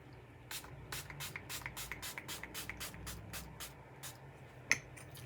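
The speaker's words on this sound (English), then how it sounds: "now I am going to put the Mo Beauty Set It Up setting spray" A rapid series of short, soft pump sprays of makeup setting spray hissing one after another, about a dozen quick misty bursts, close and fairly quiet.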